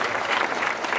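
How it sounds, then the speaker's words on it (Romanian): Audience at a children's dance show in a theatre clapping together, a short, steady burst of dense applause filling the room. "Dumneavoastră aplaudați, da?"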